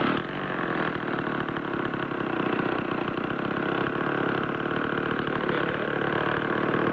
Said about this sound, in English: If you're too lazy to push one of these things, they now have them with a motor on them.